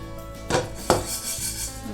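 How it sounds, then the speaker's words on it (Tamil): Urad dal is dry-roasted in a pan for an idli premix and stirred. Two short, close scraping rattles ring out over a steady low hum. "அரை கப்பு உளுந்து வச்சுருக்கேன், இதை நல்லா வறுத்துக்கலாம்."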